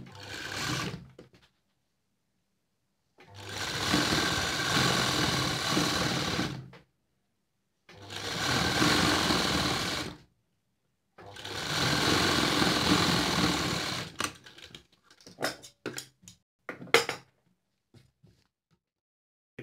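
Sewing machine stitching piping onto a kalli dress, running in three long steady whirring bursts of several seconds each with quiet gaps between, then a few short clicks and stops.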